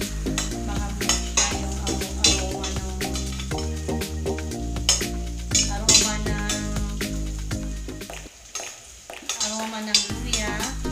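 Kitchen clatter of pots and utensils with a soft sizzle as ginger browns in hot oil for a Filipino beef dish (Ilokano imbaliktad), steady stirring and clinks throughout, loud and close, with music playing alongside.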